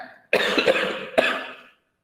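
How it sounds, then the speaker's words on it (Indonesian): Two harsh coughs about a second apart, close by, with a short throat-clearing rasp trailing the second, then silence. "Maaf, batuk."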